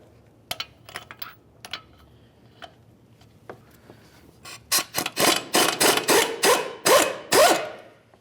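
A power tool loosens the 21mm wheel bearing bolts on a 2005-2010 Dodge Dakota steering knuckle: a few sharp clicks, then a rapid series of loud, close, rising bursts.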